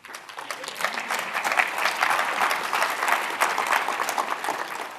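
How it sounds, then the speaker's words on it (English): Sustained applause from a large audience at a software development keynote event, dense and steady clapping filling the hall throughout with no break. "people usually clap for that"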